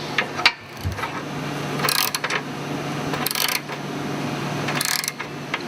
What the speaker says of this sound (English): Now we install the short spacer on the driver's side.